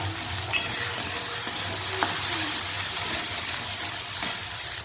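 Cumin powder and turmeric frying in an oiled pan while being stirred, a steady soft sizzle with occasional scraping ticks of the spoon, close and without talk.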